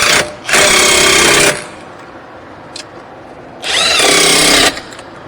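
Power tool tightening a hub bearing bolt on a Cadillac SRX, two loud whirring bursts of about a second each separated by a quiet pause, close and alone.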